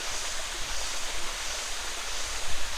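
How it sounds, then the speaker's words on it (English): A waterfall in Phuket, Thailand rushes in a dense, steady roar of falling water, close and loud throughout with no talk. "Well, that's the waterfall,"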